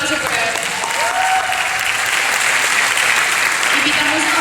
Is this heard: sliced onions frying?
no